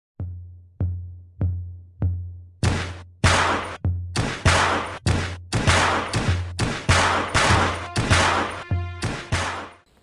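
Cybergun Mini Uzi full metal CO2 blowback airsoft gun firing: a few spaced single shots at first, then a rapid series of loud, sharp reports with mechanical clacks, close and with no talking.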